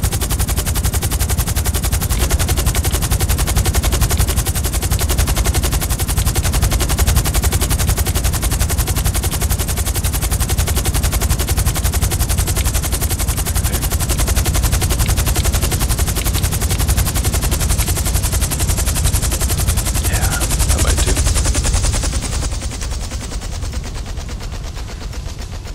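Continuous loud automatic gunfire rattles from GTA 5 Online, with enemies shooting during a cargo mission, a dense unbroken barrage that eases slightly near the end.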